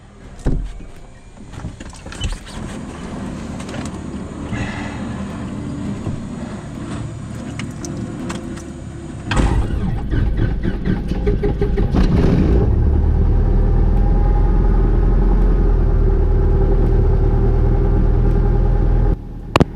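A small propeller airplane engine cranks with sputters and clicks, then catches after about nine seconds and settles into a loud, steady droning run, close up inside the cockpit.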